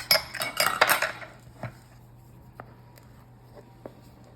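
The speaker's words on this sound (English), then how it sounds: "now we're going to take a spatula and dump it into our 9x13 greased sheet." A spatula clanks and scrapes against a bowl and a greased 9x13 metal pan as very thick cake batter is scooped in. There is a busy burst of close utensil knocks at first, then a few isolated taps fade into quiet.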